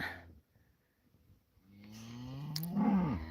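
A cow on a hay-raking farm gives one long, loud, drawn-out moo with a falling pitch, rising after a quiet pause and carrying close and clear over faint outdoor background.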